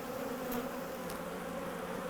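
Bees swarm over an opened hive frame heavy with nectar, a steady faint insect buzz throughout with a couple of brief louder passes close by, no voices.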